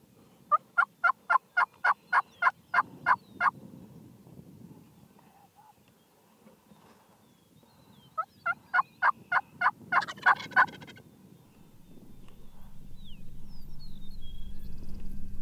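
A wild turkey gobbler in Iowa spring woods lets out two loud, rapid rattling gobbles, each a fast burst of pulses, with quiet between them and a rising rushing noise building toward the end.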